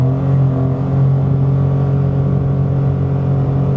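A 2017 Mitsubishi Space Star facelift accelerates from 80 to 100 km/h, its small engine droning in a steady, strained hum heard from inside the cabin, rising only slightly in pitch.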